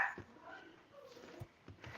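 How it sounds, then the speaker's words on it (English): A dog barks faintly in the distance in a quiet home, a few short, scattered yips and woofs with soft background talk. "Can you hear the dog barking?"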